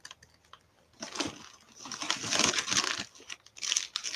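A plastic bag of cat treats being crinkled and squeezed by hand, loud close rustling bursts that start after a quiet moment and come in uneven waves.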